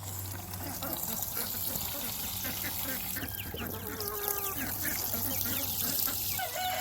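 Dirty water poured out of a poultry waterer on a pasture farm, a steady watery splash and trickle with Cornish Cross chickens clucking around it outdoors.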